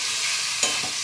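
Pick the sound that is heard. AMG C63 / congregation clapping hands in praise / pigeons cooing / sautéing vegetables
sautéing vegetables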